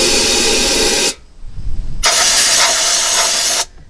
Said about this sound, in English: What I do with the gun here is I come and I spray inside the frame like this